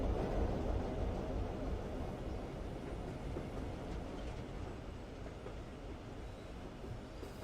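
A train rolls along its rails in the zombie survival game Zompiercer, a loud, steady rumbling roar with faint clickety-clack beneath, continuous and unbroken with no talk.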